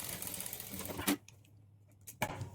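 A sewing machine stitches a work blouse with a quick, rattling run that stops abruptly, leaves a short quiet gap, and then starts again. The sound is close and moderately quiet.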